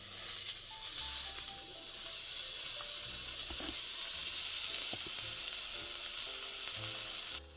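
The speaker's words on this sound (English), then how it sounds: "As the lamb begins to sear, the kitchen settles into that unmistakable rhythm." Pistachio-crusted lamb chops sear in a hot pan, giving a loud, even sizzle with faint crackles and stirring that holds steady before cutting off abruptly near the end; no voices.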